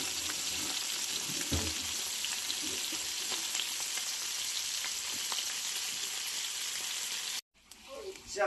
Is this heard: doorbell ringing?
no